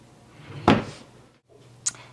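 A jewelry drawer fitted with small storage trays slides shut with one short wooden thud in a quiet closet, and a sharp little click follows a moment later.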